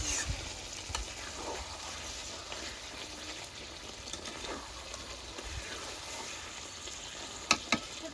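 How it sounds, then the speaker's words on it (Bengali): A spoon works through chicken curry with garam masala in a pan, a continuous low frying hiss with soft scraping strokes and a couple of sharp clinks near the end, close up and without speech. "এখন গরম মশলা দিয়ে নাড়াচাড়া দিয়ে নামিয়ে দেব"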